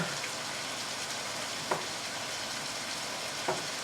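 Beef marinade for beef broccoli noodles being stirred, a soft steady wet swishing with two faint clicks of the utensil against the bowl.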